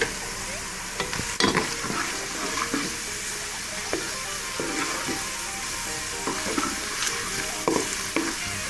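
Golden-brown onions fry with cumin and other spices as a spoon stirs them, a continuous close sizzle broken by sharp scraping knocks against the pan at irregular intervals.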